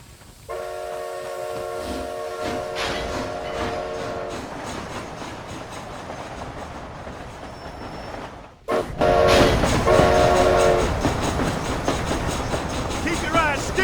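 A train in the Red Dead Redemption Undead Nightmare game rumbles along with clattering wheels and sounds a steam whistle twice, loud and close, with voices talking over the noise.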